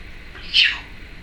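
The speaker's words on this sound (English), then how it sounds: "that's sort of a sneeze. Fake one." A Timneh African grey parrot makes a fake sneeze, a single short, sharp burst, close and fairly loud, alone against a quiet room.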